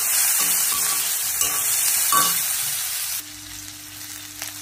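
Masala with green chilli and hing roasting in a pan for Hubli-style girmit, a steady close sizzle with occasional light scraping stirs.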